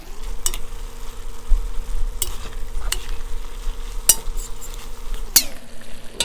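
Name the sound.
mashing ingredients sizzling in pan for spaghetti sauce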